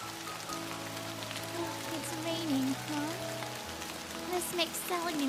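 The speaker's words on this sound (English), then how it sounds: "it was starting to rain" Steady rain falls onto a surface in the morning, a soft continuous patter with scattered drops, heard alone at a low, even level while a tonal musical background hums beneath it.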